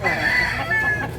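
A young gamecock gives short clucking calls close by, with a quick wavering tone rising and falling over a second.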